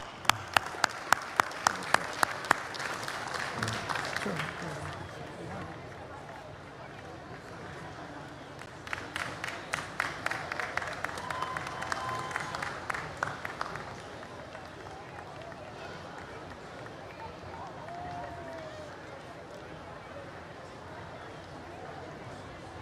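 Crowd at the World Cultural Festival in Washington DC applauding a former president of India, distant hall-filling clapping in two bursts with a lull between, sharp close taps at the opening and a voice speaking over it later.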